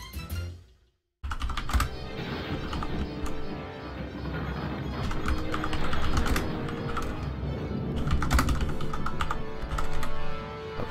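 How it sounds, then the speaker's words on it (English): Rapid typing on a light computer keyboard, dense clattering keystrokes close to the microphone in a continuous run after a brief silence at the start. "This keyboard is so light."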